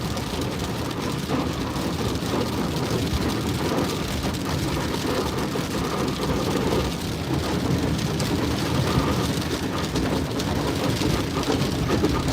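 Water jets from passing traffic spray and splash against the side of a slushy, snow-melting road, a continuous rushing hiss heard from inside a moving car with road noise underneath.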